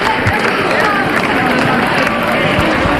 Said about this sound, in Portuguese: Aplausos, euforia, uma reação total de quem esperava esta vitória e a conseguiu